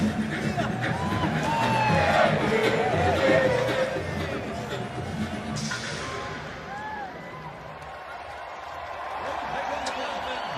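A large stadium crowd at a rugby sevens match in Las Vegas roars and cheers with scattered whoops, swelling early then easing into a broad hubbub, while commentators talk over it.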